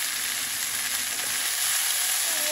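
Chicken frying in oil, a steady, dense sizzle of bubbling fat that stays loud and close throughout with no talking over it.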